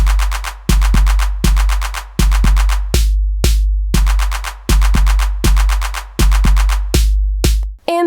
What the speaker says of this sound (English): We used TunePad to create this beat in our last episode.